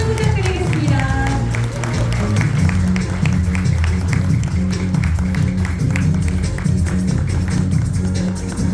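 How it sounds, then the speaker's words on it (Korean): An audience at a stablecoin and digital-asset seminar gives a presenter a sustained round of applause and cheering as he is welcomed to the stage, a dense, steady wash of clapping over a low, continuous background. "윤중현 대표님을 큰 박수와 환호로 무대 위로 모셔보도록 하겠습니다"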